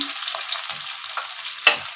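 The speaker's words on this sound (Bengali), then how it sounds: "মাছগুলো ভাজা হচ্ছে" Pieces of tengra fish fry in hot oil with a constant bright sizzle and occasional small pops, loud and close.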